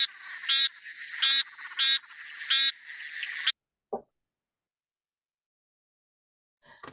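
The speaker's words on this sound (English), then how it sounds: "this is a bleating frog" A bleating frog in a backyard calls four times in quick pulsed bursts, loud and close, then falls silent apart from a brief click and a faint call at the end.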